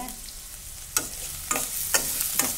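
Green chilies, coriander and curry leaves hit hot oil in a pan, crackling in a bright steady sizzle broken by several sharp spitting pops, close and moderately loud.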